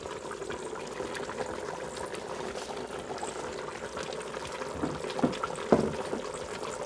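A chicken tajine with carrots simmers and bubbles steadily while fries are added, giving a continuous low boiling hiss broken near the end by a few soft splashes and clinks, with no talking.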